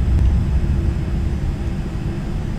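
An Aerfer Ariete jet landing in Flight Simulator X, a steady, loud low rumble of engine and airflow that holds without a break for a few seconds, with no voices.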